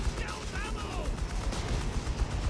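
Artillery barrage from a Company of Heroes 3 1v1 match: dense, continuous booms and rumbling explosions in the game's battle sound, with voices over the top.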